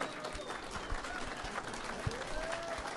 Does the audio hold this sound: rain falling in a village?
no